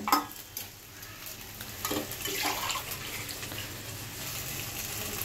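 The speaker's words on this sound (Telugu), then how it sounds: "తర్వాత నేను ఎసురు పోసుకుంటున్నాను" Cooking water is poured into a pot of coriander and mint rice, a soft splash at the start followed by a steady, faint wash of running, sizzling liquid.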